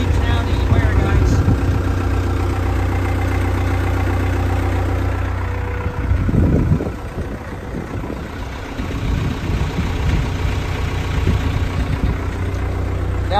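A Caterpillar E70B excavator engine idles steadily with a low continuous rumble throughout, while someone talks over it.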